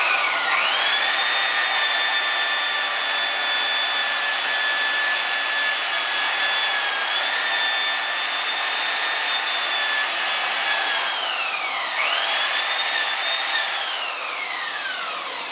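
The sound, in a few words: polishing an aluminum wheel with a buffing wheel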